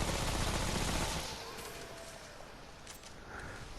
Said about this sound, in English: the SMG have a good fire rate, a decent reload speed, and it's doing the job pretty well